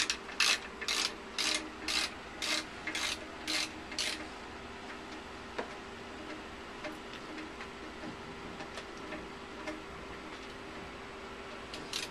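A ratchet clicks in about eight quick, evenly spaced bursts while undoing the last bolt on a yacht's water tank lid, then stops, leaving faint background hum and occasional small knocks.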